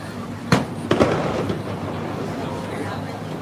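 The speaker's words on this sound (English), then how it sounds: "We're going to see how much more cannon fire we get though." Booming cannon fire from a pirate-themed water taxi in Tampa, Florida: one sharp blast, then a second report with rolling echoes, heard over steady engine and wind rumble on the water.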